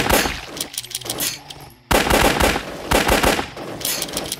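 Loud machine gun fire in the zombie shooter game Shambles, rapid bursts with a short silent gap before a second sustained volley, close and dominant with no talk.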